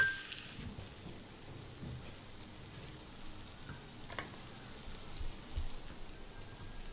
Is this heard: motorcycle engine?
no